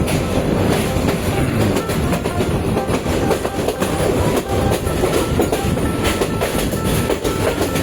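Train rolling through the Sahabani rail crossing in Dhaka, a loud continuous rumble with steady clickety-clack of wheels over the rails, close by and uninterrupted with no voices.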